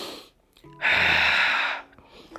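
A person takes an audible breath during a lower back exercise, a single strong inhale lasting about a second, close and breathy, with a few quiet sounds around it.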